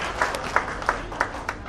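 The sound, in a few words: audience applause for a senior leader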